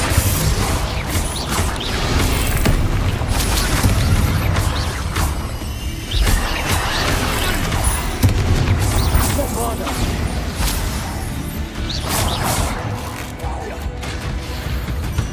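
Repeated explosive Bombarda spell blasts in Hogwarts Legacy, crashing booms and whooshes bursting in a busy combat mix, with spoken incantations heard among the impacts.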